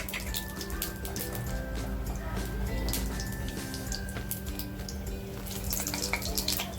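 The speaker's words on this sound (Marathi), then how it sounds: "तेल बघा आपलं तापलेलं आहे जे खडे मसाले घेतलेत ना ते टाकते अगोदर" Whole spices hit hot oil for a mutton masala gravy, giving a close, continuous sizzle and crackle with small pops scattered throughout and no talking.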